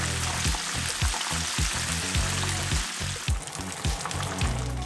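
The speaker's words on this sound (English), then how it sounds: "Fry them for about 5 to 6 minutes," Chicken wings deep frying in oil at about 180 degrees Celsius for Japanese tebasaki, a steady close sizzle and crackle with occasional bubbling pops and light stirring clatter, no talk.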